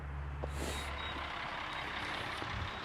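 Reversing beeps ring out from a concrete truck arriving at a slab pour on a site with no driveway yet, the repeated tones riding over a low, steady diesel engine rumble and a hiss like an air brake.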